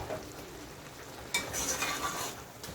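Grated coconut and sugar for Jamaican grater cake are stirred and pressed in a pot, making soft scraping and gentle sizzling close by, with a sharper clink of the spoon partway through, fairly quiet and without talk.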